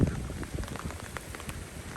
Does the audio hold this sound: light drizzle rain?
yes